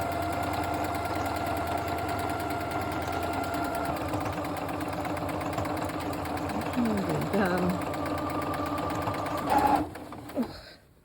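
A sewing machine stitches through a quilt sandwich with a steady, rapid mechanical chatter, runs continuously at close range and then slows and stops near the end, with a person talking over it.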